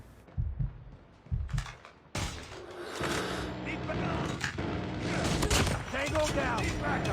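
Sniper rifle fire and game combat sounds from COD Mobile, a few sharp low thumps early on, then dense battle noise with shots and effects, voices talking over the action.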